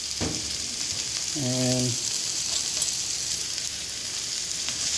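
Green beans sizzle steadily in a pan while being stirred, a continuous frying hiss with a brief tonal clink near the start and a single short word spoken.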